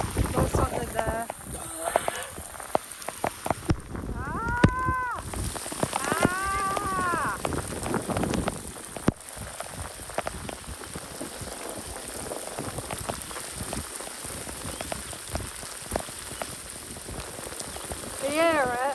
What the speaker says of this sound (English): It's fucking hailing!